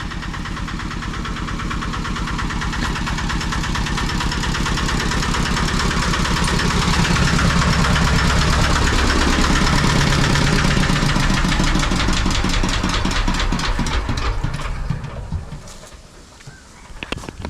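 A farm machine engine idles loudly and steadily for a long stretch, with a knocking rumble, before cutting out and dropping to quieter background noise near the end.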